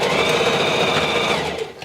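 A sewing machine runs steadily at close range, stitching along the very edge of the opening on a fabric infinity scarf, a continuous loud whir that slows and stops near the end.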